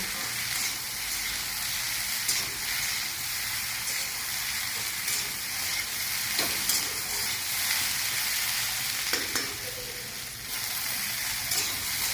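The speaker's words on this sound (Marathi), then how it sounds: "त्याला परतून घ्यायचं चांगलं" Okra frying in oil in a pan gives off a loud, constant sizzling hiss, with occasional stirring scrapes mixed in.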